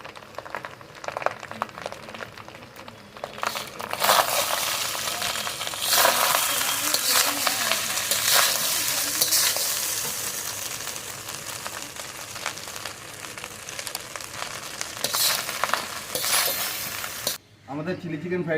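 Chilli chicken fried rice sizzles in a pan while it is stirred and tossed. Utensils clink against the metal now and then, and a voice talks over much of the cooking.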